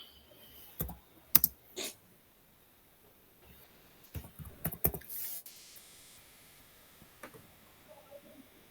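Typing on a computer keyboard during an online Python class, with faint scattered key clicks in short irregular bursts against quiet room tone, with no talk.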